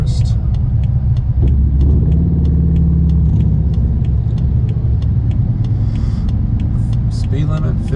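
A car driving slowly across a narrow bridge over the Delaware River at Port Jervis, a steady loud engine and road rumble with regular ticking thumps from the deck joints, while people talk over it.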